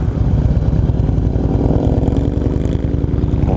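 A Harley-Davidson FLHRCI Road King being ridden through town in Twin Falls, Idaho: a loud, close V-twin engine drone with a steady pulsing rumble and rising revs as the bike accelerates, with no voices.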